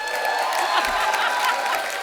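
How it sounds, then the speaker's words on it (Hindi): Studio audience on a Hindi comedy show applauding and cheering for the star cast of Gehraiyaan, a steady, dense wash of clapping with scattered whoops throughout. "एक बार जोरदार तालियां गहराइयां की स्टार कास्ट के लिए।"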